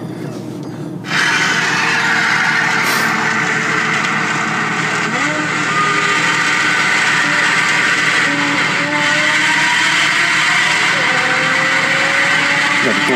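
A Porsche 911 Carrera S engine and exhaust drone loudly through the Schiphol tunnel, a sustained close roar with gentle rises in pitch as it accelerates, running continuously for over twelve seconds.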